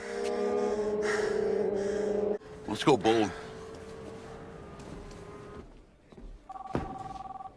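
A telephone rings in a film scene, repeated bell-like trills standing out over dialogue, background noise and a sharp gasp-like burst.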